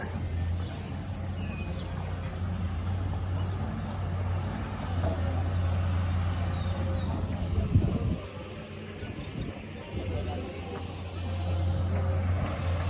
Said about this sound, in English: Here's a loaded truck.